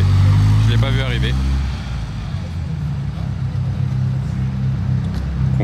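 A Ferrari 430 Scuderia drives past in Monaco, its engine a loud, steady roar that holds throughout with road noise, while people talk over it.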